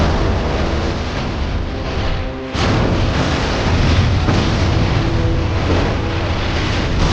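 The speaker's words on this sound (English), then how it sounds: "The violent explosion alerted everyone." An anime explosion sound effect as a train crashes through a bridge at full speed: a dense, roaring rumble with a sharp burst partway through, then continuing heavy noise.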